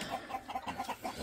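Chickens at a chicken farm cluck in quick, regular pulses close by, a busy run of short calls with no talking.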